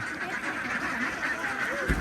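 Young laying ducks quack in a steady, dense chorus close by, a continuous flock clamor without pauses.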